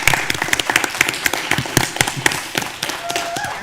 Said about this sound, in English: I want to give her a round of applause for all of her years of service.